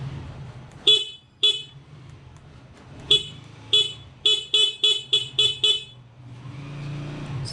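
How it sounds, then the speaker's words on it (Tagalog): A newly installed car horn is tested with the ignition on, giving loud close honks: two single toots, then a rapid run of about eight short blasts, followed by a quiet idle hum. "testing natin yung busina"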